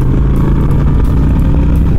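Loud, steady rumble of a Honda Shadow 750 ACE motorcycle engine idling up close, a constant low throbbing drone without any voices.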